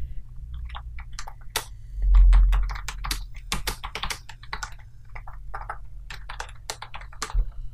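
Someone types text on a computer keyboard, close crisp clicks in quick irregular bursts with a brief low thump partway through, no speech.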